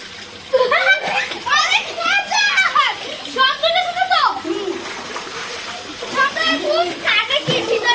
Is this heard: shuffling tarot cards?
no